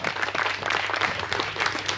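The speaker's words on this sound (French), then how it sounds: "Applaudissez-les." A crowd applauds prize winners at an awards ceremony in a brief, steady burst of many hands clapping, moderately loud throughout.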